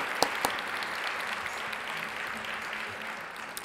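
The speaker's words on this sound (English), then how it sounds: "So I think we should give them a round of applause." Conference audience at a women in compliance and ethics event applauds the speakers, continuous crowd clapping with a couple of sharp nearby claps at the start, holding steady before easing slightly.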